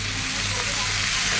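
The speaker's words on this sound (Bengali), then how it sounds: "আমি মাছের তেলেই পেঁয়াজের বেরেস্তা করব, দিয়ে দিচ্ছি।" Onions sizzle in hot fish oil for a rohu fish biryani, a steady close crackling hiss with a low hum beneath, continuous throughout.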